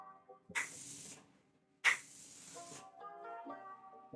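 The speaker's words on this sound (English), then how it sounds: "All that's left is to set my face with the Morphe Continuous Setting Mist." Morphe Continuous Setting Mist sprayed onto a face in two short, close, airy hissing bursts, each about half a second long, with quiet pauses and faint background sounds between them.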